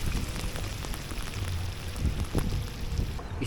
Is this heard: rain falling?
yes